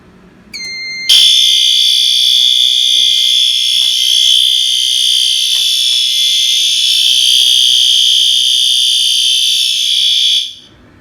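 A BG12S pull station triggers a fire alarm system that sounds one loud, continuous electronic tone for roughly nine seconds before stopping, with faint clicks underneath.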